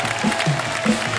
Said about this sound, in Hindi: NRI वाइफ्स के लिए एक बार जोरदार ताली